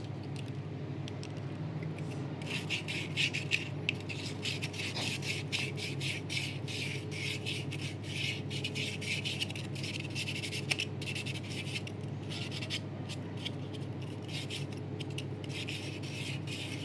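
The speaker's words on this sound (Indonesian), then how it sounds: "Amplas sendiri itu saya gunakan seperti ini. Ini teman-teman bisa gunakan amplas yang 500 atau 400." Steady scratchy rubbing of 400 or 500 grit sandpaper on a PS3 controller analog stick part, a fast back-and-forth rasp heard close and alone over a constant low hum.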